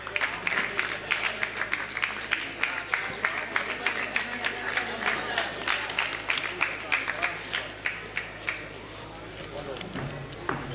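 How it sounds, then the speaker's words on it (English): Warm applause rises from the audience for a prize winner at an annual school prize distribution ceremony, a sustained patter of many hands, with a voice speaking over it now and then. "so warm applause to Akash"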